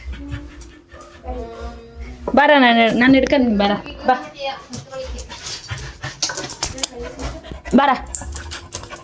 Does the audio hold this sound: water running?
no